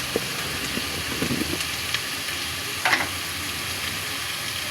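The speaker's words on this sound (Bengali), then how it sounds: "মশলাটা ভেজে নিব।" Spices frying in a pan, a steady hissing sizzle with a few soft clinks and stirring touches, close and without talk.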